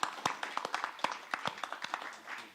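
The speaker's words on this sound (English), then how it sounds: "let's have a round of applause for our panelists" A small audience applauds panelists at the close of a conference session on culture and city reconstruction, with scattered, fairly quiet hand claps heard at a distance for a couple of seconds.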